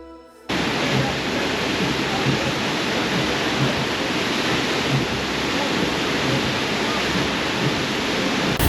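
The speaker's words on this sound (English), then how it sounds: "So coming down through to Applecross, north to south, we come across this waterfall." Waterfall near Applecross in stormy weather, heard as a dense, steady roar of rushing water that starts abruptly and stays loud and unbroken, with no voices over it.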